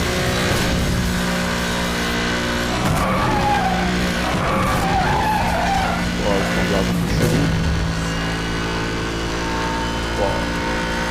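V8 car engine in Need for Speed Hot Pursuit Remastered, a steady loud drone with tire skidding and revving in racing gameplay, while someone talks over it throughout.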